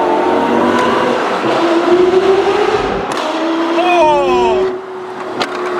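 Straight-piped Lamborghini Gallardo Superleggera engine roars loudly up close, with repeated rising and falling revs and crackling downshift blips over about six seconds, continuous and aggressive, with a brief tire-like squeal near the end.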